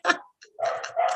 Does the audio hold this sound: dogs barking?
yes